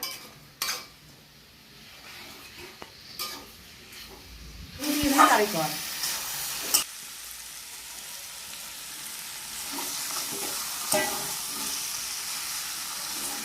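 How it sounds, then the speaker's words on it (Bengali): Mutton pieces for kosha are stirred and fried in a pan, with a burst of sizzling and a scrape of utensil against metal midway, surrounded by quieter kitchen clatter and occasional faint talk. "আমি মাংসটাকে ভালো করে নেড়ে ছেড়ে দিলাম।"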